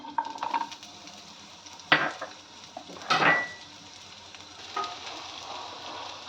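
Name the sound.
onions being added to hot oil in a pan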